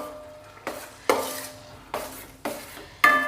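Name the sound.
banana being fried and stirred in ghee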